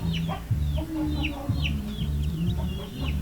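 Basilan chickens and chicks in a poultry house give repeated close clucks and high chick peeps, a busy overlapping chorus of fowl calls with no talking.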